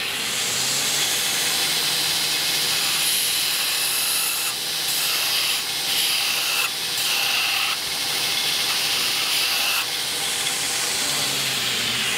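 A carbide piece pressed against a running sanding belt on a knife-shaping grinder, giving a loud, continuous hissing rasp that holds steady for the whole stretch, with brief dips where contact eases.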